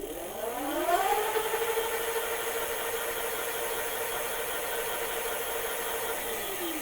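A Ride1Up Portola folding e-bike hub motor spins its raised rear wheel, a whine rising in pitch over the first second, then holding a steady, loud electric hum.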